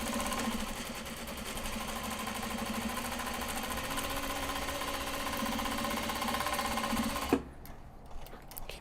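A sewing machine stitches the interior pocket of a traveller's notebook, a steady rapid mechanical chatter running close and continuous for several seconds before stopping abruptly, followed by faint rustling.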